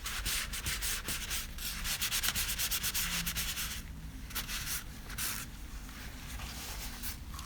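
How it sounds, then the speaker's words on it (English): Steady, close rubbing and scrubbing of ink off a gel medium resist background on paper, a continuous dry abrasive swish that shifts in rhythm and texture as the hand changes position, with no talking. "You also want to keep changing where you are, otherwise you're just rubbing the ink back on."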